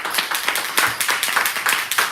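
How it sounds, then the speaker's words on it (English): A small club audience claps at a Toastmasters meeting on induction day, a few dozen hands beating in a quick, uneven patter that swells and dips over a couple of seconds. "Please, a round of applause."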